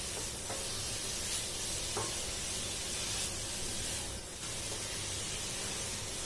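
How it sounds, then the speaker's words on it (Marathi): Beetroot sautéing in ghee in a heavy pan, a steady soft sizzle with faint stirring scrapes, fairly quiet and continuous with no voices. "या तुपावर मी हा बीट घालून घेते। मी हा बीट जरा परतून घेते छान।"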